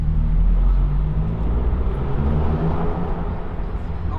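A 2018 Subaru WRX with its muffler deleted, heard from inside as a loud, steady low exhaust drone and road roar throughout, with no talking.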